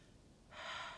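A short, breathy blow of air from rapé snuff practice, one forceful exhaled puff starting midway after near silence and fading off, close and clear with no talking.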